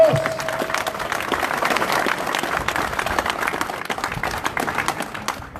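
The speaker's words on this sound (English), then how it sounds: "Let's have a round of applause for Sergeant Mick Willits." Sustained applause from an audience at a Northern Ireland veterans' event in York, honouring a George Cross recipient sergeant; steady dense clapping with some crowd noise, fading toward the end.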